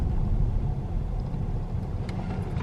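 A Chevrolet Silverado pickup's engine roars at full throttle on a dyno, a loud, steady low rumble holding for several seconds with no pause.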